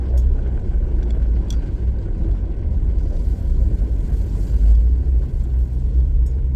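A vehicle driving slowly along a Washington State road buried under 15 to 20 inches of snow: a continuous low rumble with some wind buffeting, and no talking.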